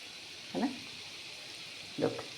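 Oil in a pan frying snacks, a faint steady sizzle broken by two distinct soft pops about a second and a half apart, close and quiet with no talking.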